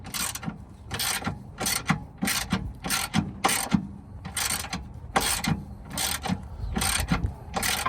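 Ratchet wrench loosening a bolt on a Civic during a sway bar and endlink swap, in a series of about a dozen quick bursts of rapid clicking, close and fairly loud, with brief pauses between strokes.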